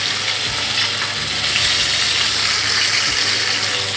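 Pieces of KFC-style crispy fried chicken frying in hot oil, a loud dense continuous bubbling sizzle with low rumbling underneath, close and steady throughout, without speech.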